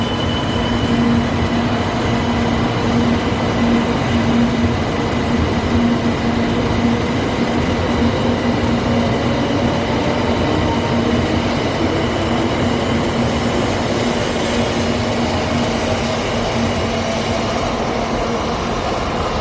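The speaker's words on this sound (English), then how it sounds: "quality time with the Shinkansen trains. Is a Railstar 700 series." A Shinkansen Railstar 700 series train at Himeji Station gives a steady, loud rolling rumble with sustained tonal hum throughout, close and continuous, with no voices over it.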